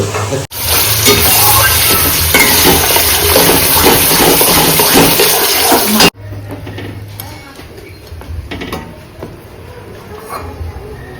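Large prawns dropped into a hot wok for malai curry, a loud dense sizzle and crackle that cuts off abruptly, followed by quieter gentle frying and faint stirring.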